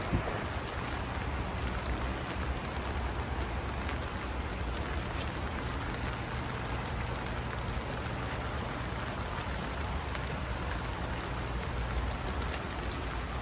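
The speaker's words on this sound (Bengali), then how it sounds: "দেখেন না গার্ডেনে পানি 2 দিন থেকে কন্টিনিউ পানি পড়তেছে" Steady rain falls on a garden after two days of continuous downpour, a dense, even hiss of drops pattering on leaves and surfaces throughout, loud and close with no voices.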